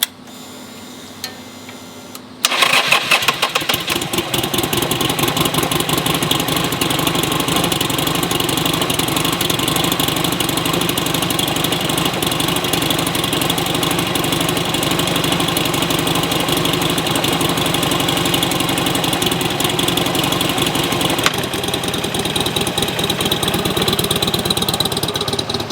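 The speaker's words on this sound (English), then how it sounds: "Let's put some heat into the Buell, take it out on a little ride" A Buell motorcycle engine with a displacement over 1,000 cc cranks and catches after a quiet start, then settles into a loud, steady idle with a fast, even ticking pulse that holds for over twenty seconds.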